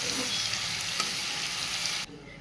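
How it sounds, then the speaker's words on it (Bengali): Steady, close sizzling of paneer frying in hot oil, a dense crackling hiss that cuts off abruptly near the end, leaving quieter background. "আমি একটু লাল লাল করে পনিরটা ভেজে নিচ্ছি"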